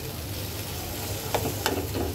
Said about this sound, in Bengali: এবার একটু সুন্দর করে নেড়ে দেবো আগে।